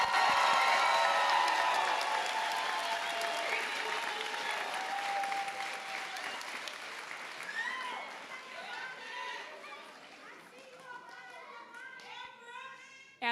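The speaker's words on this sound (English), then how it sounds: "can I please get a round of applause for your MC2STEM graduating class of 2022" Loud audience applause at a high school graduation ceremony that starts strong and gradually fades, with children's voices and chatter rising as the clapping dies down.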